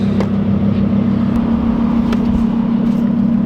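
Audi R8 sports car driving on an airstrip, a loud steady engine drone heard from inside the cabin with a strong low hum and road rumble, no speech.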